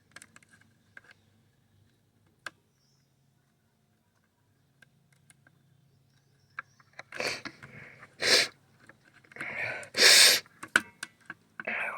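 Repeated wet, congested sniffs from someone with a runny nose, loud and close, coming in bursts toward the end after a mostly quiet stretch with a few faint clicks.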